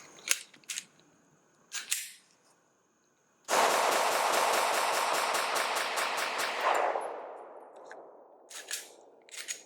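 A Glock pistol fitted with a standard magazine: a few metallic clicks, then a loud burst of rapid, evenly spaced shots ringing out for about three seconds and fading into a tail, followed by more handling clicks.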